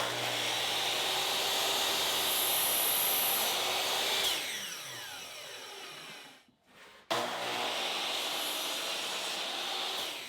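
A saw cuts through wooden bead molding held against a sacrificial fence, a loud steady whir that drops off as the blade spins down, goes briefly quiet, then starts up again at full strength.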